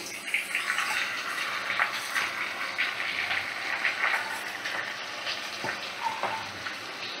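Soaked rice and lentils frying in a pot with onions, a steady loud sizzle and hiss running without a break, with occasional stirring scrapes and no voice.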